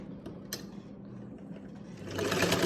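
Sewing machine running steadily while stitching the neckline of a garment, a close, continuous mechanical whir that grows louder and faster near the end.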